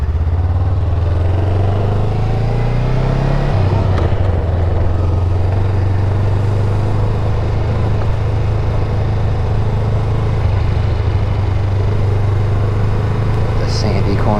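A Honda Rebel 500 motorcycle with a freshly cleaned and lubed chain rides with a loud, close, steady engine drone, its pitch shifting early on as it changes speed, with wind rush throughout.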